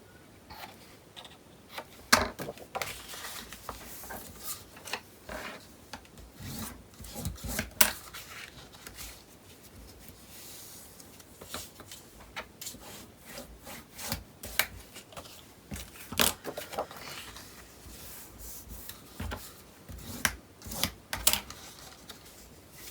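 Scissors snip the corners of a paper card page, giving quiet, scattered cuts and rubbing sounds in short irregular bursts.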